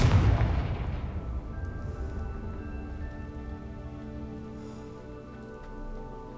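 A Confringo explosive spell from Hogwarts Legacy goes off as one loud booming blast, its deep rumble and ringing tones decaying slowly over several seconds with no talk.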